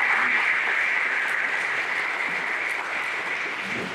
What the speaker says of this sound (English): So please, a round of applause for Jerry.